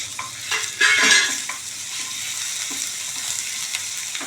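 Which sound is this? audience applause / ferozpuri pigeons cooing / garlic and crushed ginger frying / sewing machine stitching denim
garlic and crushed ginger frying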